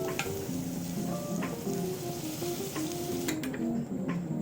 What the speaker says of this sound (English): Adding some butter to this pan.